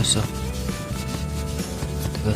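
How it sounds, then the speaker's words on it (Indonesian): A rag rubs Autosol polish onto the exhaust neck of a 2020 Honda Beat motorcycle, making a continuous close-up scrubbing and rasping with repeated strokes. "gosok aja sampai kayak krum kayak gitu ya"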